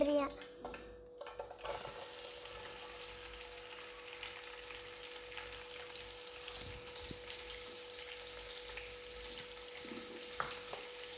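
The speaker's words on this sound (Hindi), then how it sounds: "अब हम इसमें ऑयल डाल देंगे। अब हम इसमें प्याज डालेंगे" Onions frying in oil in a pan for chicken biryani, a steady soft sizzle running the whole way through, with some stirring and a brief louder clatter at the start.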